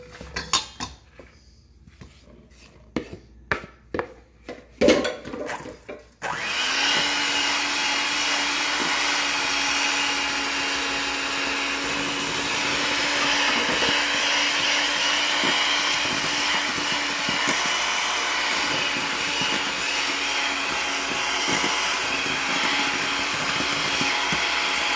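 Electric mixer beating chocolate cupcake batter after dry ingredients and milk go into the wet, a steady loud motor whir running without a break after a few seconds of knocks and clatter.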